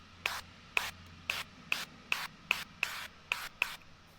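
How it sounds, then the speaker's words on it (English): Duck fat is sprayed onto chicken wings in nine short, evenly spaced hissing bursts from a spray bottle, close and fairly quiet, with no talking. "Next step, I'm going to spray these with some duck fat."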